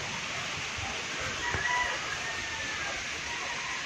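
Chickens cluck faintly in the distance over a steady hissing background, with a brief louder call near the middle, while being fed fresh moringa.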